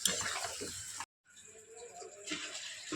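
Water poured from a tap or jug into a pan of egg curry, a steady splashing gush that cuts out briefly and then resumes, with a faint voice in the background.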